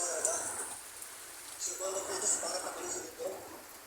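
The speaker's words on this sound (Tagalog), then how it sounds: "Sana huminto na yung ulan para ano." Sudden heavy downpour bringing flooding, a steady hiss of rain on surfaces, moderately loud and continuous, with a voice talking over it.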